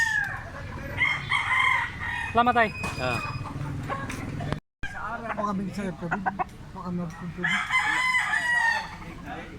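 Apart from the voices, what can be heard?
rooster crowing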